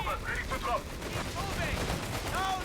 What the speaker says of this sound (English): that machine gun can't quite support the Germans due to these mortars